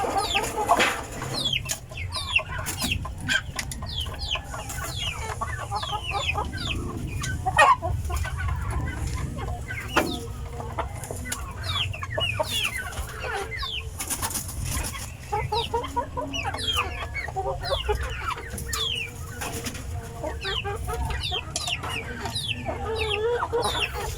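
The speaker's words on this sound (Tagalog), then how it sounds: "Yung ating Rhode Island na rooster mga kaputak." Free-range chickens cluck steadily with a Rhode Island Red rooster among them, a busy flock of overlapping clucks and short calls at close to moderate distance, under a low outdoor rumble throughout.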